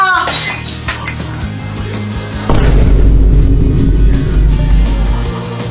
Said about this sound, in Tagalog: Hala ka, Kuya Jepoy, nabasag mo yung base ni Mama.